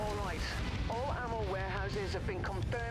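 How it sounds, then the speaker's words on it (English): Machine guns on a mech in MechWarrior 5: Mercenaries chewing through buildings, a constant rumbling, crackling barrage of fire and crumbling debris under someone talking over it. "those machine guns really grind down buildings"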